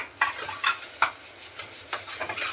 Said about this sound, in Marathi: असं करपू नाही द्यायचं, फक्त छान असं परतून घ्यायचं